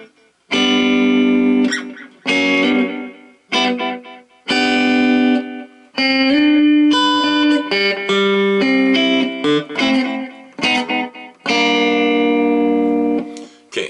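Electric guitar played through a Roland Micro Cube amp with echo, picking a slow gospel melody of Amazing Grace in sustained phrases with audible repeats trailing each note, loud and alone.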